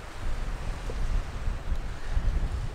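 Wind blowing across a beach in Perth, Australia, a loud, gusty rumble buffeting the microphone with a steady surf-like wash underneath, no voices.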